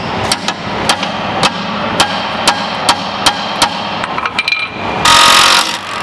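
A hammer taps a stuck bolt on a MK6 Fiesta ST150 during a coilover fitting, giving a dozen or so sharp metallic knocks at irregular intervals, close and loud, ending in a brief burst of hissing noise.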